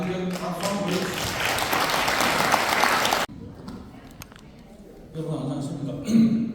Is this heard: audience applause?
yes